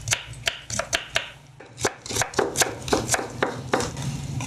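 A knife slices a peeled vegetable into thin julienne strips for a Korean royal court cold platter, giving close, crisp, rapid taps against a cutting board in uneven bursts of strokes.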